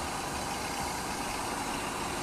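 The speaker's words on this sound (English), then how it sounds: "You can hear how loud the engine is." A 1998 car engine idles loudly and steadily up close, an even mechanical rumble with a slight rattling, knocking texture and no break in the sound.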